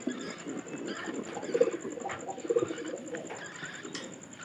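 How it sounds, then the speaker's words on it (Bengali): Pigeons, one showing signs of a cold, coo softly in a soft, repeated rhythm close by, with faint chirps and rustling as a chick is fed, over a low background hum. "বাচ্চার ডাক কিন্তু একবারে কমে গেছে কবুতরের।"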